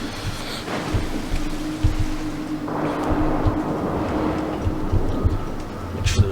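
Steady rain and rumbling thunder fill a dark, stormy night in the video game Mark of the Ninja, with a continuous wash of rain, low thudding rolls and a brighter burst partway through, no voices.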